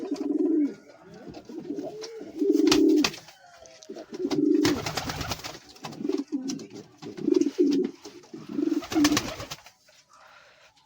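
Sirazi pigeons, including an aggressive male, coo in a close, loud series of low rolling calls repeated in bursts with short pauses between them, joined by a few wing flutters, and no one talks.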